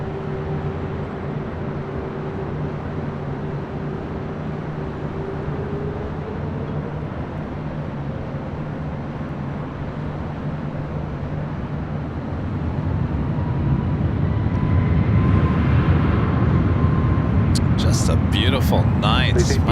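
An Aeromexico airliner on LAX runway 24 left, heard from a distance, gives a low, steady roar that swells toward the end as it spools up for takeoff. Other noise and clicks sit near the end of the clip.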